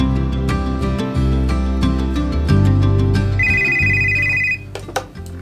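A telephone rings with an incoming call from a nurse to a GP about a care home resident's worsening condition. A short electronic ring tone rises briefly over loud, sustained background music.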